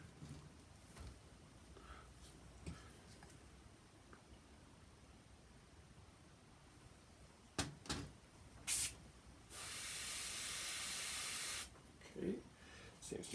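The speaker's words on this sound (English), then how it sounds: "Seems to be spraying fine." Spray paint hisses onto an RC crawler body in a short steady two-second burst, preceded by a few brief puffs and knocks, close and fairly loud against a quiet background.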